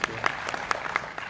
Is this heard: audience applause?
yes